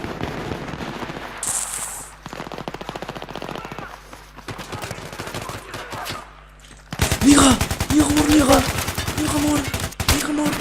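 Rapid bursts of automatic weapon fire in Battlefield 3 on the Noshahr Canals map, clattering in dense volleys, thinner at first and then heavy and loud in the last few seconds, with a player speaking over it.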